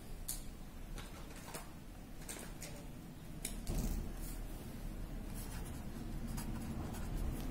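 Pen scratching on paper during a maths lesson, a run of short scribbling strokes in uneven bursts over a quiet room hum, close and moderately faint, with no talk.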